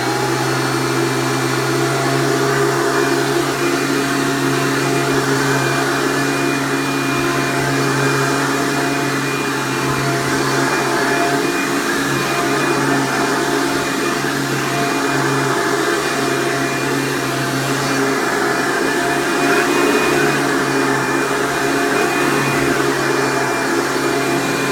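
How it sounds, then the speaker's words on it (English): A Hoover Breathe Easy U5270-930 upright vacuum cleaner runs steadily and loudly up close, a constant whining motor roar with a low hum that holds unchanged throughout, no voices. "Now, let's run it. Now, I would like to point out it is pretty noisy"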